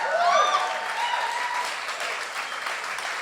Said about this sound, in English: Why did that deserve an applause?